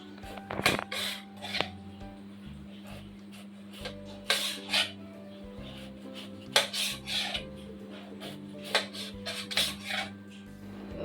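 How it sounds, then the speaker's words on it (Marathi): A knife slices peeled elephant foot yam into pieces, giving irregular, fairly faint clacks and scrapes against a cutting board over a low steady hum, with no talking. "आता ह्याचे काप करून घेते"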